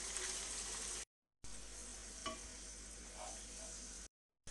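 Garlic sizzles and fries in a pan with chicken for kabsa, a steady crackling hiss broken by two short silent gaps, with a faint stir partway through.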